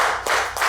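A few sharp handclaps at a pre-Juneteenth poetry celebration, two or three distinct claps close together over a faint, steady background.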